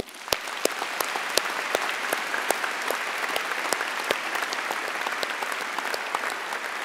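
A hall full of people at a college commemoration day ceremony applauds the staff, steady close clapping with a few sharp individual claps standing out from the crowd.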